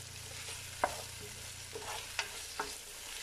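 Onions frying in a pan while being stirred, a steady low sizzle broken by a few sharp scrapes and clicks of a utensil against the pan, fairly faint and with no talking.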